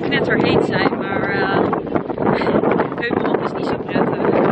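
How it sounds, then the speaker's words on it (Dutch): Strong wind roars and buffets the microphone without a break near the start of the Easter Island marathon. A person talks over the rushing wind throughout. "Kijk, die wind."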